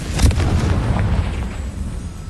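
A Confringo spell blast in Hogwarts Legacy gameplay: a loud, sustained booming explosion with a sharp onset, rumbling low and continuous for a couple of seconds with no voices.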